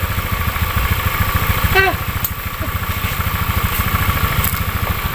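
A motorcycle engine idles nearby with a steady low, rhythmic chugging, while people talk over it.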